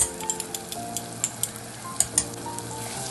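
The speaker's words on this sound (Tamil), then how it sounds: "இந்த வெங்காயம் தக்காளி எல்லாமே நல்லா குக் ஆகிற வரைக்கும் வதக்கிடலாங்க" Onion and tomato sauté in a pan for a drumstick biryani: a steady close sizzle with the repeated scrape and tap of a spatula stirring through it, and no voices.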